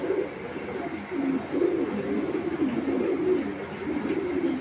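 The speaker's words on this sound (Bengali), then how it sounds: "একটা অরিজিনাল র বিডের চিতা মিলিটারি মাদি কবুতর" A large female Cheeta Military pigeon of original breed coos in low, repeated, rolling phrases, close and fairly loud, with no talk over it.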